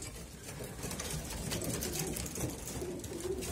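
A flock of pigeons coos continuously and up close, their low, throaty calls overlapping steadily with no speech.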